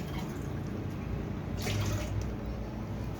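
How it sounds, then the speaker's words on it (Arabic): Water poured from a cup into a cooking pot while making date jam in a home kitchen, a close, steady splashing stream that swells briefly midway, with no talking. "نحط كوبايتين ميه اهي"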